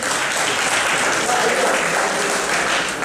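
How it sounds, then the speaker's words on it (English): Dense, steady applause from a quiz audience at a railway quiz contest in Kolkata fills the room for about three seconds, a continuous wash of many hands clapping at even loudness. "Big round of applause."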